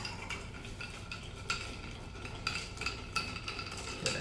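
A gin cocktail is stirred with ice in a mixing vessel, the spoon giving quiet, irregular clinks and rattles of ice against glass, soft and close, with no voices.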